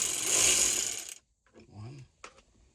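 Panel screws come out inside a 2006 Honda Pilot as a ratchet spins in one loud, close burst of rapid clicking, followed by a few faint handling clicks and knocks.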